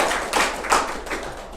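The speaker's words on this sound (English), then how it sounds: "Yes, clap for that." Press-conference audience giving a brief round of clapping, a few soft scattered claps over a steady room hum, fairly distant and short.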